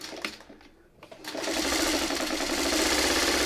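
A sewing machine stitches leader ender pieces while piecing a quilt pattern. After a few soft clicks and handling sounds it starts up and runs steadily at a fast, even hum close by.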